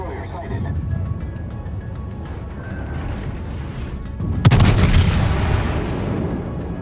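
Battleship main guns fire in World of Warships, a heavy booming salvo rising over steady engine and sea rumble with someone talking throughout.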